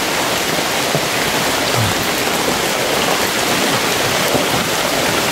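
Steady outdoor rainfall fills the scene, a dense even hiss of drops striking surfaces, loud and continuous throughout with no voices.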